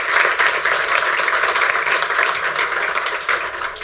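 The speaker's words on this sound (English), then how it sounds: "I think that deserves an applause" Attendees at a board meeting applauding, a dense, loud and steady burst of clapping from a room full of people, lasting several seconds without talk.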